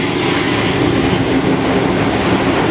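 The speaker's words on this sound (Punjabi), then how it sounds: "ਰੇਲ ਜਿਹੜੀ ਹੈ ਉਹ ਆ ਗਈ, ਔਰ ਰੇਲ ਚੱਲਦੀ ਪਈ ਹੈ ਇਸ ਵੇਲੇ" A train arrives and runs through a railway station in Gujranwala, Punjab, Pakistan, producing a loud, steady, close rumble with rhythmic wheel clatter that holds for the whole stretch, and no voices.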